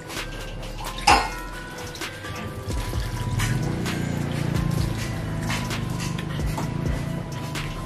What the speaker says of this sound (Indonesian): Nah, kita siram-siram aja.